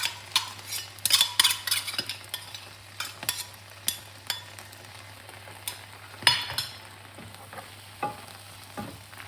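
Mango pulp for peda is stirred in a pan with a spoon: a busy series of sharp scrapes and clinks against the metal over a faint background hum, with no voices.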